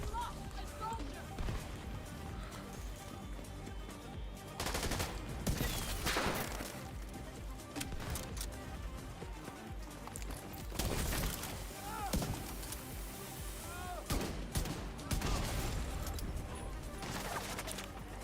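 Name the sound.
gunfire from the video game The Division 2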